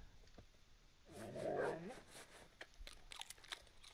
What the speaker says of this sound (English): Puppy's still barking.